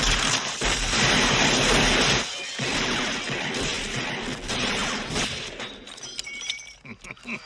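Gunfire erupts in a film scene as a casino boss's henchmen open fire at the top of a gondola ride, dense loud bursts of shots and crashing impacts that trail off into scattered sharper cracks.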